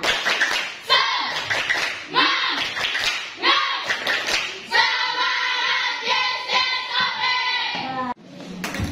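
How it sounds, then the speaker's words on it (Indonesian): Children in a classroom chant a rhythmic clapping cheer together in a fast, bouncy rhythm, with sharp hand claps landing on the beat throughout, loud and close. "Nah, tepuk semangat."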